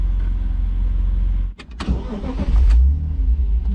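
A BMW Z-Kart engine idles with a steady low pulse, cuts briefly, then comes back and is pushed to full throttle, ending in a loud, rough, close-up roar.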